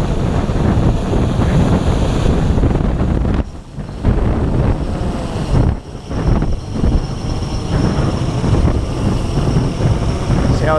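Strong outdoor wind buffets the microphone in loud, continuous low rumbling gusts, briefly easing twice, during a Blade 350QX quadcopter flight in Texas.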